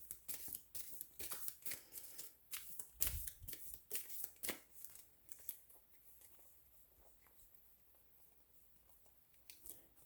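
Tarot-style cards for an astrology reading are shuffled close up, quick papery riffles and slaps arriving in irregular bursts that grow sparser and fainter toward the end.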